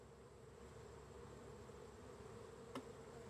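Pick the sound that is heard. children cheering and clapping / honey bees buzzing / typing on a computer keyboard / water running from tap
honey bees buzzing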